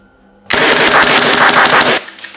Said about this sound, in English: I never get tired of that feeling of firing an airsoft pistol and seeing the slide lock back after the final round has been spent.